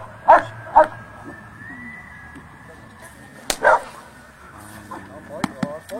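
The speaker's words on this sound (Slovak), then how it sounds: "A títo psi aj na povel štekať." Dogs at an amateur pet competition bark on command, a few sharp separate barks with pauses between them, plus a whimper and some outdoor handling noise.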